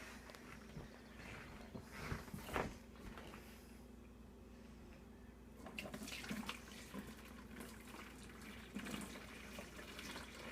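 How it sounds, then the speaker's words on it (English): Dandelion wine being poured and strained through cloth, a faint steady trickle and splash of liquid running on with a few soft bumps and shuffles, quiet and close with no voices. "Alright, now I'm going to strain it up"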